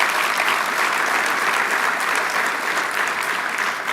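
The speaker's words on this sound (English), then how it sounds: "Let's give them a big round of applause." A large audience at the 2024 Naismith Awards brunch applauds the Jersey Mike's Naismith winners, a dense, steady wash of clapping that holds at full strength for the whole stretch without letting up.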